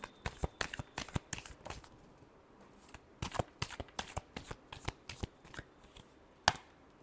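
Tarot cards being shuffled by hand during a Virgo love reading, a quick run of crisp riffling slaps and flutters in bursts, close and fairly quiet, with a final sharp snap near the end.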